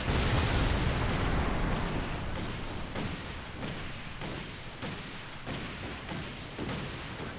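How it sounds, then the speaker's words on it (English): Rocket artillery strike in the video game Company of Heroes 2 on an industrial warzone map: a rapid series of heavy booming impacts and thuds over a dense roar, loud and close, repeating in quick irregular bursts without speech. "Rockets have been dispatched."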